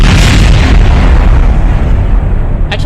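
A loud, sustained explosion from a Kerbal Space Program audio drama, a deep rumbling boom that rolls on for about three seconds at steady loudness with no speech over it.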